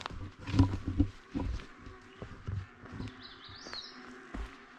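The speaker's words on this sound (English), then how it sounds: "I get to sleep with the sound of the bullfrogs tonight" Bullfrogs call at a lake during a solo canoe trip, giving several deep, throaty croaks in uneven bursts at moderate distance. Faint bird chirps sound in the background of the quiet scene.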